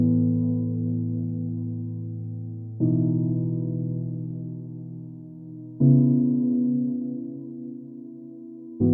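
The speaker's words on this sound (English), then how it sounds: "Another supporting element is the piano chords." Warm lofi hip-hop piano chords ring out alone, each struck chord sustaining and slowly fading before the next, three changes in about nine seconds at moderate volume.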